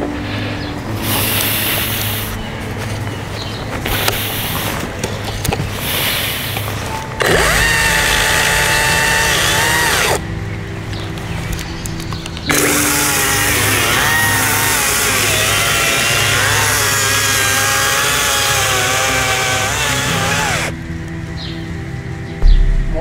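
A cordless battery chainsaw with a 30 cm bar cuts through a thick wooden log in loud, close bursts of high-revving whine, broken by short idle pauses between cuts.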